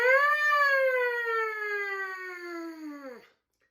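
A siren imitated by buzzing into a trumpet mouthpiece, one loud wavering tone sliding slowly downward and dropping off at the end, close and alone.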